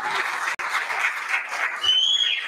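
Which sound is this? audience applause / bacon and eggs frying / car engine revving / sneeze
audience applause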